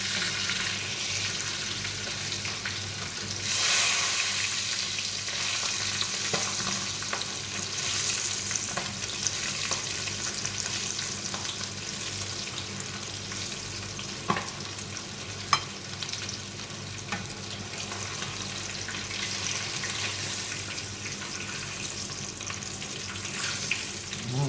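Food fries in cooking oil with a dense, steady sizzle and crackle that runs the whole time, nearby and fairly loud, and occasional stirring scrapes and clinks are heard over it.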